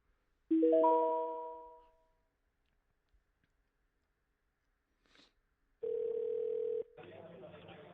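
Phone line tones while a call to a scammer is redialed: a rising run of harmonic tones, then after a pause a steady electronic tone that cuts into a rougher buzzing signal, loud and alone without speech.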